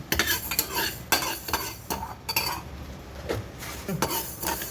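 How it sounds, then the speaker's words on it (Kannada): Cloves fried with pepper, mustard seeds and fenugreek in a pan for sweet lemon pickle: a low sizzle under repeated scraping and stirring strokes, with occasional utensil clinks against the pan, close and fairly loud. "ಮೂರು ಲವಂಗ ತಗೊಂಡೇನಿ, ಅದನ್ನು ಇದರಲ್ಲೇ ಹುರಿತೀನಿ"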